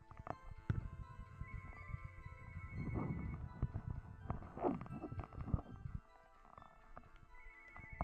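A phone ringtone sounds during a gameplay session of Phoenix Wright: Ace Attorney, a sustained electronic tone repeating in short bursts over a mix of game sounds and background noise, then cutting off toward the end.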